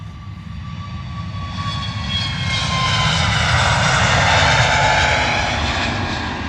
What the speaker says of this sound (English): There's A320 Neo.